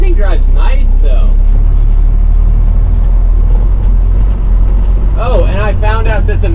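A 1981 International truck rumbles steadily throughout as it drives, its engine noise loud and continuous beneath someone talking at the start and again near the end.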